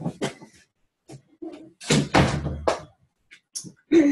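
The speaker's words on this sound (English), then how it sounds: "Hold on, I gotta shut the door." An indoor door is pushed shut, giving a cluster of close, dull thuds and knocks between quieter shuffling and handling noises.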